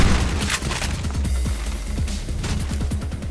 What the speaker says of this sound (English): now I've got the heavy machine gun that one had